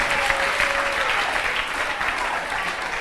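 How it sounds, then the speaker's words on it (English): An audience at a school quiz competition applauds, a dense, steady round of clapping that stays loud for the whole stretch. "A big round of applause for the school once again."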